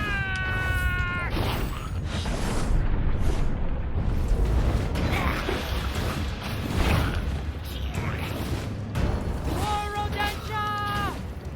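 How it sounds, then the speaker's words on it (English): Booming explosions go off in the action game Omensight, with rumbling low blasts mixed with clanking game effects and in-game character voices, while players talk over the top. "Explosion."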